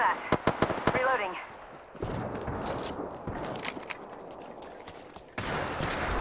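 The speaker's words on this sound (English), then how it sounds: "I am taking fire, friends. Getting shot at." Apex Legends gunfire in a ranked match, a rapid string of sharp close shots at the start, then rattling bursts and explosive crackle, mixed with a game character's voice lines.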